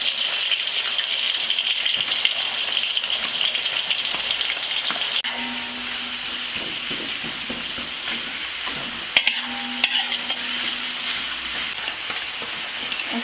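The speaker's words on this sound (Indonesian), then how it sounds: "Tumis minyak saminnya ya, ini di ini ya, cair dimasukkan dulu." Melted ghee sizzles steadily in a pan, a continuous loud frying hiss with occasional scraping stirs and a couple of brief clinks, no talk.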